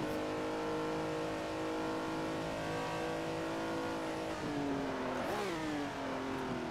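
A Ferrari engine in the racing game Assetto Corsa revs hard and holds a loud, steady high-pitched drone, then blips and shifts with a quick rising and falling wail near the end.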